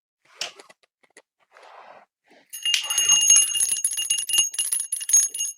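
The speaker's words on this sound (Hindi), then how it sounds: "ये घंटी बज गई" A temple bell at a Durga worship gathering rings out loudly and keeps ringing for several seconds, shimmering and metallic, after a few sharp claps and faint murmurs.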